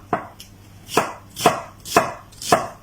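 Knife chopping shallots on a board for Thai green curry paste, five sharp separate cuts at a steady, unhurried pace, close and clear with no talking.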